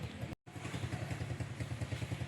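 A motorcycle engine runs at a steady idle after being restarted, its close, rhythmic low putter continuing throughout apart from a brief dropout near the start.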